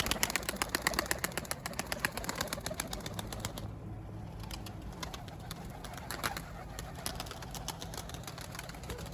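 Many tumbler pigeons' wings flap in a steady fluttering rush in Mardin, with soft cooing and a low engine hum underneath.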